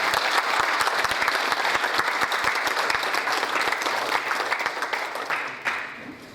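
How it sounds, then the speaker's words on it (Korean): A seated audience at a Korean unification policy lecture gives sustained welcoming applause for an introduced guest, dense and steady, thinning and fading toward the end. "환영의 박수 부탁드리겠습니다"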